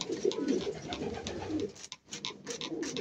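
A pigeon that has just escaped in a pigeon loft coos in a low, steady, throaty run, close and continuous with a brief pause midway.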